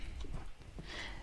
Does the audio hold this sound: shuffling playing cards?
no